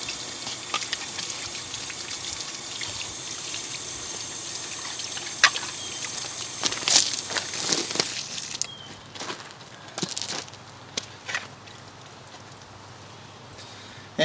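Water from a hose rinses the pieces of a camper's dump hose outdoors, a steady splashing trickle with scattered spatters and knocks, fairly close, that gradually thins out toward the end.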